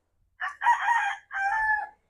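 A rooster crows at close range in an island setting, a clear multi-part call with a short opening note, a long sustained middle and a final drawn-out phrase, heard alone in otherwise quiet surroundings.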